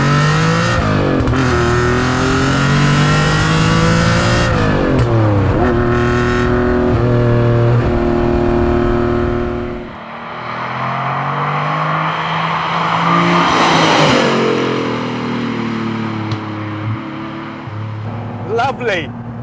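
A TVR T350C sports car revs hard and accelerates through several gears, its loud engine note climbing and dropping with each shift, then easing off before pulling again, heard close from inside the car.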